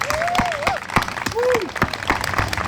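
An outdoor crowd at a Peace Rock dedication ceremony claps in a dense, steady patter, with whoops and a shouting voice rising over the applause.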